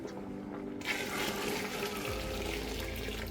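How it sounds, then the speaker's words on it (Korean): Warm water pours steadily into a pot of boiling red beans, a continuous splashing rush close by, with no talking. "끓기 시작할 때 따뜻한 물을 한 번 더 부어 줄 거예요"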